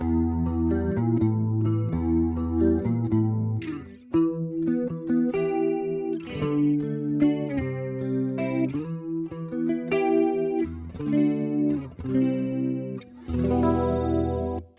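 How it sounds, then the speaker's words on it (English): An electric guitar run through a Kemper Profiler plays clean chords and arpeggios with a jazz chorus effect and light compression, shimmering and even in level, with short pauses between phrases. "just easy jazz chorus sound with a bit of compression"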